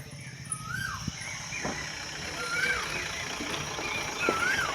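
A bird, likely a koel, calls near a home kitchen at seven in the evening, giving several short, clear, rising whistles spread through the stretch over a steady background hum.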